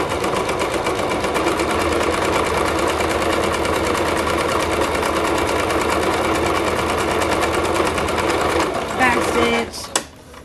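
A sewing machine runs steadily while zigzag stitching the hem of girls' leggings, a continuous loud mechanical whir that stops near the end, followed by a few brief handling clicks.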